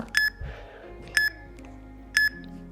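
A workout interval timer beeping three times at roughly one-second intervals, each short bright tone clear and alone over faint room sound.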